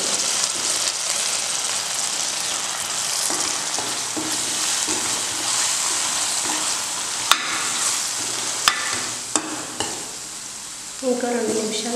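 Coriander powder and ginger garlic paste fry in a pan for an egg curry, giving a steady, loud sizzle with stirring scrapes and a few sharp utensil clicks, and a brief voice near the end.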